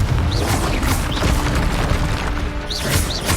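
Blasts from the fiery Confringo spell in Hogwarts Legacy land as loud booming crashes over a dense rumble of combat, with a few brief whooshing streaks mixed in.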